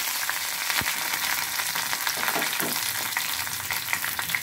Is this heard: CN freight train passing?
no